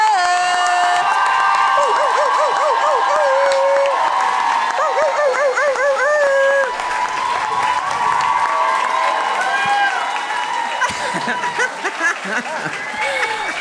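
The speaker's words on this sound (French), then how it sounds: "On les accueille avec un tonnerre d'applaudissements." A live comedy audience in Montreal erupts in loud applause and whoops as guests arrive, the clapping dense and sustained with high cheering voices riding over it, thinning toward the end as scattered shouts and laughter remain.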